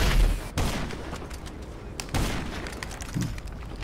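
Gunfire in GTA Online, a few sharp sudden shots spaced out over several seconds, fairly faint, with sparse bursts between them.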